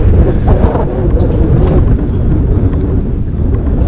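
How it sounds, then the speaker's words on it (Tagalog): Strong wind sweeps through the mountains of Dupax, Nueva Vizcaya, buffeting the microphone with a loud, continuous low roar and rumbling gusts, with no talk. "Lakas ng hangin."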